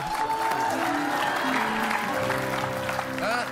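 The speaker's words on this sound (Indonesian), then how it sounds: "Tepuk tangan sekali buat Chef Yuna" A studio audience on a TV cooking contest applauds a chef. The steady clapping runs throughout, mixed with voices and some tonal background sound.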